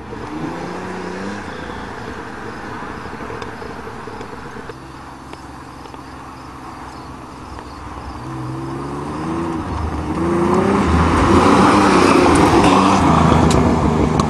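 A Pontiac Fiero V6 car drives on a farm, its engine droning steadily and then climbing in pitch and loudness as it accelerates toward the end, heard nearby and alone.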